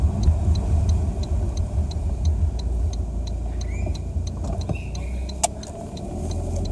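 A car towing a light, bouncy trailer on the road, with steady low engine and road rumble, a faint ticking like a turn signal, and a brief sharp clunk near the end.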